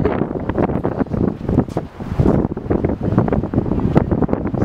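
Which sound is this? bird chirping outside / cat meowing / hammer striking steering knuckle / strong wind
strong wind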